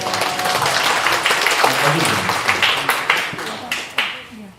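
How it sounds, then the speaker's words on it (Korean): Applause from a church congregation during a Sunday morning service, dense clapping that swells and fades in bursts, with talk mixed in over it. "박수 한번 합시다"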